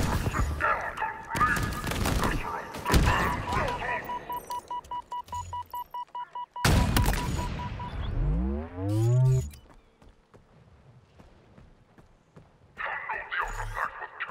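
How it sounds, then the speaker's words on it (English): Chicken clucking in the video game Halo Infinite, a string of rapid squawks and bursts that start near and loud, then give way to quieter stretches, with gunfire-like cracks and game noise around them. "Oh, chicken."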